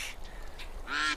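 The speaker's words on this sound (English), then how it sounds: "The ducklings played in the water until they were tired, and then the mother duck called them back." A mother duck calls to her ducklings with a few short nasal quacks, faint and spaced apart, followed by one louder, harsher quack at the end.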